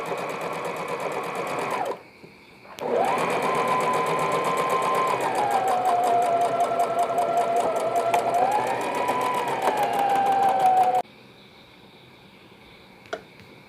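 A sewing machine stitches a newborn 2-in-1 carry nest (baby bed and nest) at home. Its steady, close motor whine runs briefly, stops for about a second, then resumes for a long continuous run before cutting off.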